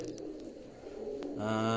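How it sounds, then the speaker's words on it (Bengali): Teddy pigeons cooing in a loft, a soft low murmur swelling into a clearer, louder coo near the end, with faint background rustle. "এখানে আর এক পেয়ার নিউ অর্ডার কবুতর আছে"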